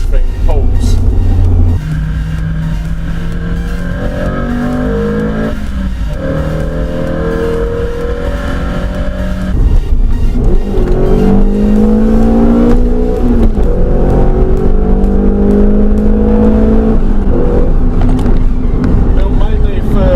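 Ford Fiesta ST hot hatch engine pulling hard under acceleration on country roads, a loud steady drone with rising pitch sweeps as it climbs through the gears, with someone talking over it much of the time.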